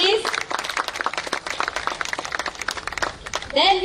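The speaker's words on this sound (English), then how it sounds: "Round of applause, please." Audience applause at a live public welcome event in Goa, steady dense clapping throughout, with a voice over a loudspeaker coming in near the end.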